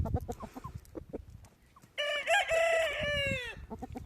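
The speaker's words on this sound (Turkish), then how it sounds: "Yani izleyin Arap tavuğumun yavruları Malatyalının." A Malatya Arab rooster lets out one loud, drawn-out crow close by, with soft clucking and chick sounds from the flock before and after it.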